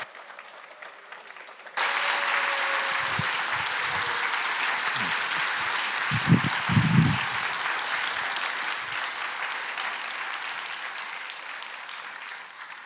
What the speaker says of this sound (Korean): 따뜻한 박수로 환영해 주셔서 너무나 감사합니다